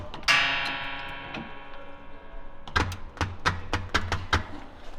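A jack lifting a Porsche 987 ratchets in a steady series of sharp metallic clicks, following an initial ringing clank, close and moderately loud.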